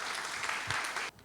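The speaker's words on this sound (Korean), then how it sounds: "여러분 큰 박수로 맞이해 주세요." A crowd at a school information session applauds to welcome a parent, a brief, full burst of clapping that cuts off abruptly after about a second.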